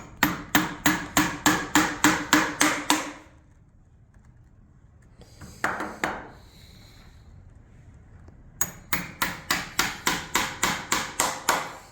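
A hammer strikes in quick, even runs of about eight or nine blows, goes quiet with a brief scrape, then starts another rapid run while a garage pedestrian entry door is fitted.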